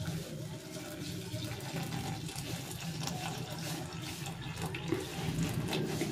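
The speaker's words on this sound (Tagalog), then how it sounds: "Bubuhusan ko ito ng hot water." Hot water poured over small chopped broccoli pieces in a bowl, a steady continuous splashing pour lasting several seconds at close range, with no talking.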